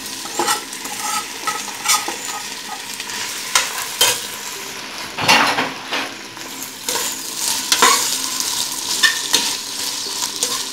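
Nopales (cactus paddles) hit a hot pan with a burst of sizzling, then keep frying under repeated stirring scrapes and spoon clatter, close and fairly loud throughout.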